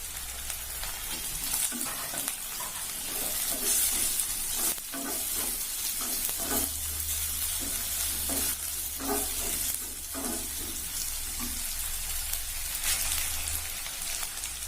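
Onions sauté in a hot pan for a Tamil fish and bean kuzhambu, a constant soft sizzle broken by repeated scraping stirs of a spoon against the pan, close and moderately quiet, with no talking.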